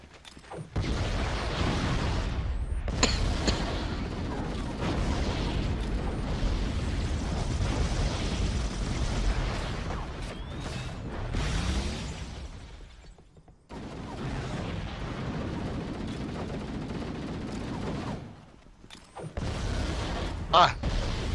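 Grenade explosions in Halo: The Master Chief Collection, with loud rumbling blasts and crashing debris over dense game noise, several heavy booms spread across the stretch, and players talking throughout.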